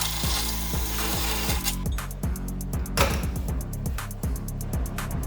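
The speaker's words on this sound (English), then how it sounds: "I can just use a regular old cup saw to drill through" A cup saw grinds through a metal pipe for a Duramax-swapped Camaro's mass airflow sensor mount, giving a steady, rapid rhythmic chatter with repeated cutting bursts, close and alone.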